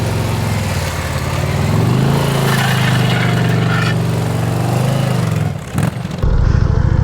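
A 2023 Indian Pursuit touring motorcycle riding slow keyhole turns, its engine running steadily and close with a smooth mid-pitched drone and small throttle swells, ending in a brief sharper rev shift.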